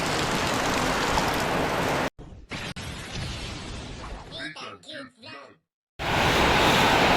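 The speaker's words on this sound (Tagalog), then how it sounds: "Grabe ang lakas ng ulan." Heavy rain pounding a hut, a dense loud roar at the start and end, broken by a stretch of quieter rain under a speaking voice.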